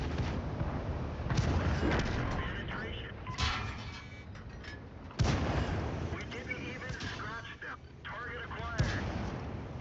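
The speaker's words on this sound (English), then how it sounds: "Alright, let them put some artillery damage from our folks." Artillery fire in a video game battle: booming blasts and gunfire bursts recur through the scene, mixed with game sound effects while a player talks over them.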